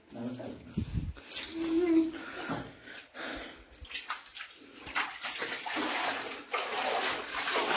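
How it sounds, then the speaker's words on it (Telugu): Water pours out from a pond near a hillside cave at Ravvala Konda, a splashing, gurgling flow that rises and falls while people talk nearby. "కొలం నుండి వాటర్ వస్తున్నాయి."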